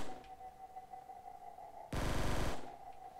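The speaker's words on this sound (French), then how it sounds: "Je tire n'importe où, on sait jamais." Automatic weapon fire in Black Ops 3 zombies on a custom firing-range map, a single rapid burst of shots lasting about half a second over a steady humming background tone.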